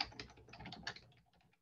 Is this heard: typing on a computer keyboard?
yes